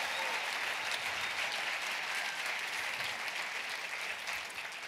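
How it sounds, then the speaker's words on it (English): Dense, steady applause from an audience at a short live talk event, held at an even level throughout the few seconds. "give them a huge round of applause for showing up"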